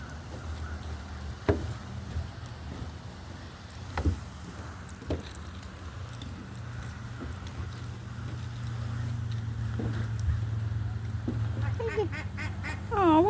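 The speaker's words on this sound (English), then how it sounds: "see if I can see the duckies" Ducks on a lake in Arkansas quack near the end, a short burst of calls over steady outdoor rumble, with scattered knocks and faint background sounds earlier.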